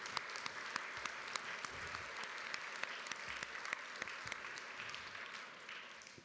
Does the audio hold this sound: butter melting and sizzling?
no